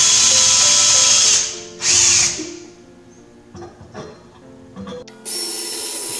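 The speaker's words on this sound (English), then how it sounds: "I'm going to drill four holes in it" A power drill bores holes in a grave marker, two loud high whining bursts close by, followed by quieter scraping, tapping and handling noises before the drill spins up again.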